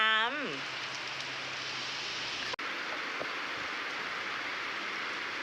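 Steady hiss of rain falling, even and continuous, with a brief voice fragment at the very start and a sharp click midway.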